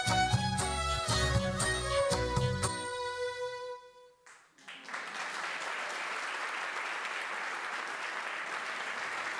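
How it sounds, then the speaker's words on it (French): Audience applause after a Chepang folk dance in Nepal starts under the last notes of sung music with percussion. After a short dip it becomes a steady, dense wash of clapping from a crowd. "Gaori Guvaju, sous vos applaudissements."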